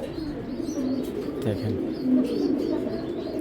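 Belgian racing pigeons, pedigree age birds, cooing in a loft, low repeated coos under steady background noise while someone talks over them.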